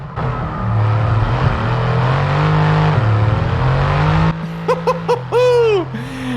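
A loud Mercedes racing engine in the video game F1 22 roars and revs steadily, then drops into sharp gear shifts and whining downshifts near the end.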